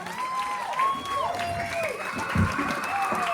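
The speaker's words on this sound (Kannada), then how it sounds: "ನಿಮ್ಮ ಆಶೀರ್ವಾದವನ್ನ ಮಕ್ಕಳಿಗೆ ಚಪ್ಪಾಳೆ ಮೂಲಕ ಕೊಡ್ಬೇಕು" Audience at a Yakshagana performance applauding for the child performers, steady clapping from a crowd with voices speaking over it throughout.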